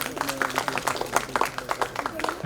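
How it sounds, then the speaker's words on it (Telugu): An audience claps loudly at a school event, dense overlapping applause sustained throughout, close and full. "మీ అందరికీ గట్టిగా చప్పట్లు కొట్టండి"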